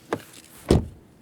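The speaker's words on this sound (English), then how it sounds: "Then, door closing sound." An Audi Q4 e-tron car door shuts with a single close, solid thump, preceded by a fainter latch click and then quiet.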